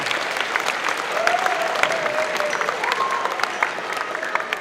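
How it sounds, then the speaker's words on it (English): Audience clapping at a school spring concert, a dense, steady round of applause lasting several seconds with a faint voice or tone threading through it. "let's give them a round of applause real quick before we get started"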